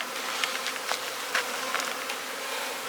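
Honey bees buzz densely around a hive in a production colony, a constant close hum with individual bees zipping past the ear.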